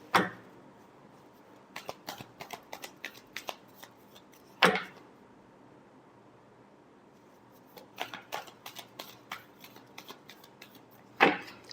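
Tarot cards being shuffled by hand, soft close riffling and tapping in short clustered bursts separated by quiet pauses, with a few sharper louder card snaps.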